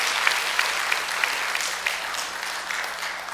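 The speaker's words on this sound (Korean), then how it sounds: "우리 옆에 계시는 아버지들한테 한번 해피 파더스데이 하면서 박수 주시면 감사하겠습니다." A church congregation claps together for the fathers on Father's Day, steady dense applause with a few sharper claps standing out, filling the room with no talking over it.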